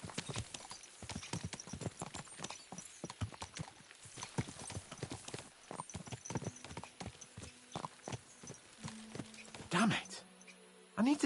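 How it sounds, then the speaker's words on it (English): Horses' hooves clip-clop steadily in Kingdom Come Deliverance 2, a brisk close rhythm of several animals riding on together, with voices talking over the hoofbeats. "Let's really spur these horses on, eh?"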